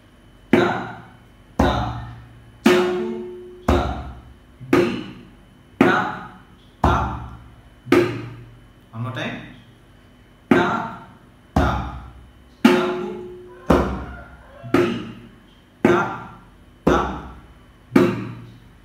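A mridangam is played in a steady fingering pattern of sharp, resonant drum strokes, about one every second, some ringing with a pitched tone, with no talking.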